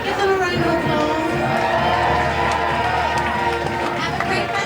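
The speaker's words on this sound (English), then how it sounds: "Are you gonna give them a round of applause?" A festival crowd roars and cheers in a steady, loud wash through the whole stretch, with clapping mixed in and voices talking and calling out over it.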